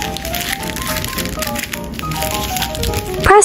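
Baking paper crinkles and rustles in quick, dense bursts as it is folded into a parcel around raw chicken wings, with a steady tonal background underneath and a sharper crackle at the end.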